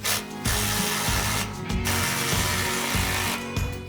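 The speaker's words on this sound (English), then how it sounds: "Now we're going to snug down the clamp to the muffler." A ratchet snugging down the exhaust muffler clamp on a 2018-2022 Jeep during an axle-back exhaust install, a steady close series of rapid clicking pawl strokes repeated in rhythmic pulls with brief pauses, loud and alone.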